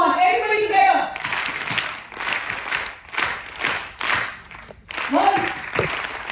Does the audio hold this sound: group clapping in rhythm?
yes